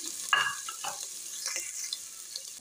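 Shredded chicken dropped into hot ghee in a pan, giving a steady soft sizzle with a sharper burst of crackle near the start, stirring scrapes, and fainter popping throughout.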